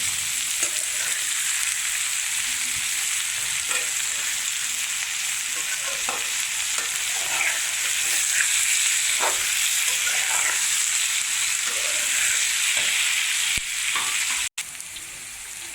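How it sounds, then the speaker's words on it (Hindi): Onions frying in a pan for a Pakistani bhindi masala, with a steady close sizzle and the light scrape and clink of a spoon stirring now and then throughout. "अब ये प्याज फ्राई हो गया है।"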